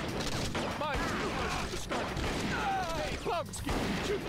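Gunfire from the Bad Boys: Miami Takedown video game, heard as a busy run of shots and impacts across the whole stretch with a few sharper bursts, mixed with game sound effects and brief talk.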